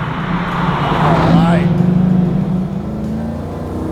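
A 1968 Chevrolet Camaro RS/SS pro-touring restomod with an LS3 V8 drives along, its engine note rising and holding steady close to the microphone, with someone speaking briefly over it.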